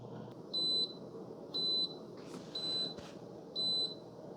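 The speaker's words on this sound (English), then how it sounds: "you get about 4 or 5 beeps" A Cuisinart Coffee Center Barista Bar 4-in-1 coffee maker gives four short, evenly spaced electronic beeps about a second apart, clear and close over a quiet room hum.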